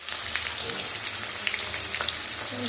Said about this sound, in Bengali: আলু ভাজাটা বসিয়ে দিয়েছি